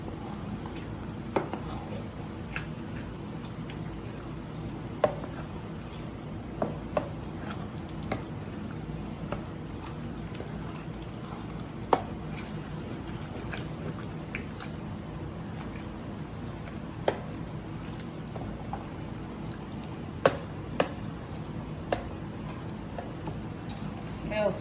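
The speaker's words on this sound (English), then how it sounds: "now we'll give it a stir and get them all mixed in" Shrimp stirred into a pot of jambalaya: soft, wet squishing and scattered clinks of a spoon against the pot, repeating irregularly at close range under a steady low background for a long stretch.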